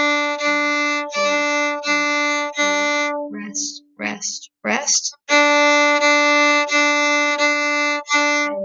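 A viola plays the top line of a piece, heard as steady bowed notes in short repeated phrases, broken midway by a brief spoken passage before the bowing resumes.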